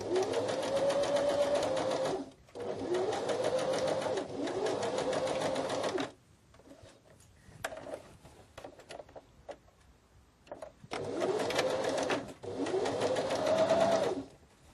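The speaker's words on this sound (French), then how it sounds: "je vais commencer par piquer mes tissus sur le haut et sur le bas" A domestic sewing machine stitches fabric seams for a small lingerie pouch, running in three steady whirring bursts separated by short pauses filled with faint handling noises.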